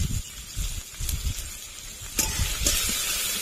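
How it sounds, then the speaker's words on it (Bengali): Onions frying in oil in a pan, a steady close sizzle and hiss with bursts of crackle rising and falling over a few seconds. "পেঁয়াজগুলো ভালো করে ভেজে নেব"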